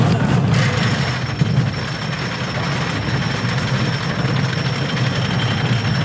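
The Switchback roller coaster, which runs forwards and backwards, rumbles along its track at ZDT's park, a steady low mechanical drone and rattle lasting the whole stretch without speech.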